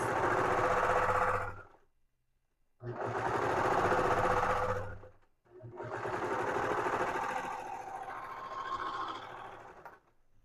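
A sewing machine stitches a half-inch seam on a hoodie in three bursts of loud, close, rapid needle hammering, separated by short silent pauses, the last run slowing slightly near its end.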